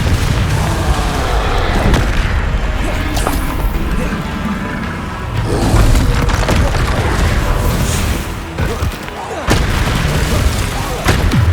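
Repeated Confringo spell explosions in the Hogwarts Legacy video game, a run of loud booming blasts and crashes across a long stretch of continuous combat, with a voice speaking in between.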